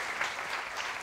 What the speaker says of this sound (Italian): Un applauso ci vuole.